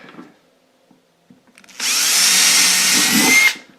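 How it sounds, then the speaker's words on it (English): A power drill bores a hole through a battery box for a gate opener in one loud, steady whir of about two seconds, close up, after a few faint handling clicks. "And then you just drill you a hole"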